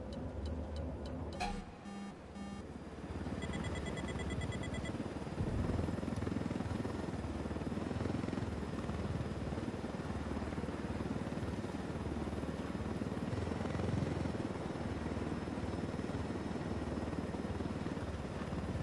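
Helicopter flying in the video game Ghost Recon Wildlands: a steady low rotor drone and engine roar fills the whole stretch, with a few beeping alert tones early on.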